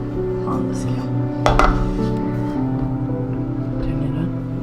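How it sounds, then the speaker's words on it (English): A bowl is set down on a kitchen scale with one sharp clink partway through, over a steady background hum and faint voices. "We'll set the bowl on the scale."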